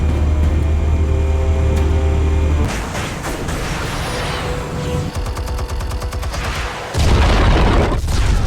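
Explosives detonating in Batman The Telltale Series: a loud booming rumble, a crackling clattering stretch with rapid bursts like gunfire, then another heavy boom near the end.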